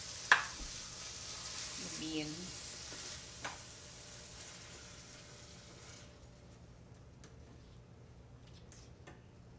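Beans with garlic powder and seasoning simmer and sizzle softly in a pan with oil, a faint, steady crackle broken by a few quiet clinks of stirring early on.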